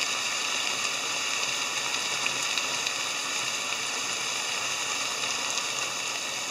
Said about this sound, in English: Then poured about 100 cubic centimeters of water.